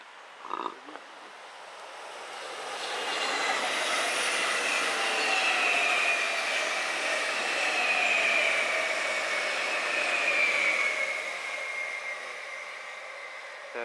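A train passes on rails at Gárdony in summer, rising to a loud, sustained rumble with a faint wheel squeal, then easing off slightly as it rolls by.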